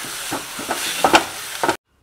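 Onion paste frying in spiced oil in a pan, a close sizzle broken by several scraping stirs and clinks of a spoon before cutting off abruptly.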